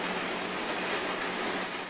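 Riding inside a moving train: a steady, enveloping rumble of wheels and carriage noise, constant and moderately loud with no voices.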